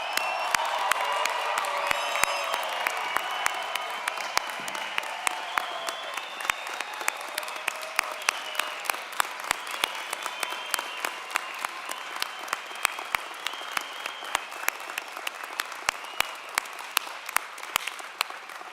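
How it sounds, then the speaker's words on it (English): A crowd at a law school commencement gives the graduates a long, sustained round of applause, dense steady clapping with scattered sharper claps and a few faint cheers, slowly thinning toward the end. "can I just ask that we all give a rousing hand, a round of applause for every single graduate"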